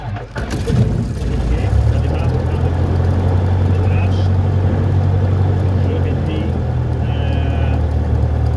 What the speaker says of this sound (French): les abords sont dégagés et on va tenter un démarrage